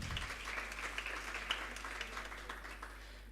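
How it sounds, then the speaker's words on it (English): An audience at a university women's forum pre-launch gives a round of applause: a soft, fairly distant, steady patter of many hands clapping that slowly fades toward the end. "Another round of applause for her, please."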